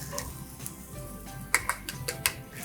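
Garlic and ginger sizzling in a pan with browned onions, a low steady frying hiss with a few crisp ticks and pops.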